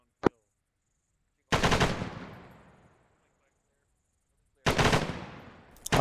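Machine gun bursts from ArmA 3 military gameplay: a brief sharp report, then two loud sustained bursts of automatic fire that trail off into echoing decay, with quiet gaps between.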